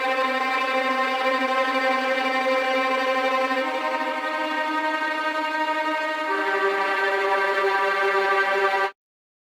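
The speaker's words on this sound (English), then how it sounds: "For the sample, I used a string sample from my construction kit Daily Beats Volume 18." Sustained string sample from a Daily Beats Volume 18 construction kit, a rich held chord with one change in harmony partway through, played alone and ending abruptly.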